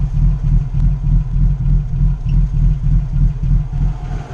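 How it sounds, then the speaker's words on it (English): Close-up exhaust of a Nissan Xterra VG33 engine with Schneider Racing 131H grind cams, a deep, rhythmic pulsing throb, steady beats repeating several times a second, loud and alone. "Definitely some pulsing in the exhaust, kind of a rhythmic pulsing."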